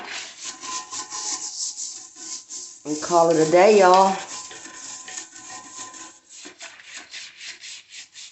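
Quick scrubbing of a toilet bowl sprayed with Lysol cleaner, done with a toilet brush: close, repeated rhythmic rubbing strokes running throughout, with a short burst of speech in the middle.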